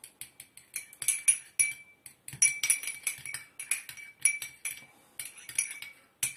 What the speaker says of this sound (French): j'ai pris une petite cuillère qui va me servir à mélanger tout ça